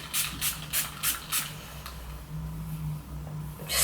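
Five quick hissing bursts of heat protectant spray are misted close through freshly washed curly hair, followed by a quieter stretch and one more spray at the end.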